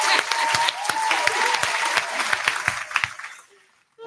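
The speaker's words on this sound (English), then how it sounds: "So yeah, I'm clapping again." A podcast host claps at close range, a dense run of sharp hand claps with a few people joining, tapering off after about three seconds into near silence before a voice begins.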